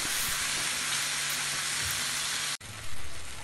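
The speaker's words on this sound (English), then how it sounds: "Keep flipping and stirring the tomatoes again and again until the tomatoes get well cooked." Chopped tomatoes fry over a medium flame for a spicy tomato chutney, giving a dense, steady hiss of sizzling that cuts out abruptly near the end and then resumes, close and without any voices.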